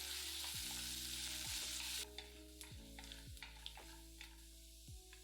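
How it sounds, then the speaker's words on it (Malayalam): Small pieces of ginger, green chili and cashew fry in a pan, with a hissing sizzle at first, then quieter frying under regular repeating tonal pulses as the pan is stirred. "അതിലേക്ക് ഒരു ചെറിയ കഷ്ണം ഇഞ്ചി ചെറുതായിട്ടരിഞ്ഞതും 1 പച്ചമുളക് ചെറുതായിട്ടരിഞ്ഞതും ഇട്ട് ഏതാനും സെക്കൻഡ് മൂപ്പിക്കുക"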